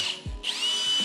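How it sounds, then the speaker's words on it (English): A power drill drives screws into curved drywall framing, a brief low burst followed by a loud rising, sustained motor whine heard close up. "And then we're just gonna screw it."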